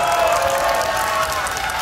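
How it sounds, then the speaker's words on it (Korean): A festival audience at a university music department performance in Hongdae applauds and cheers, a dense steady wash of clapping and crowd noise filling the short moment. "아, 박수 한번."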